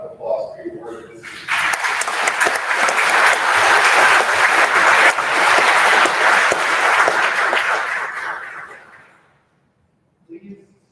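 Students at a youth legislative house session receive a round of applause: a brief voice, then loud, dense clapping from a large room that swells, holds for several seconds and fades into quiet.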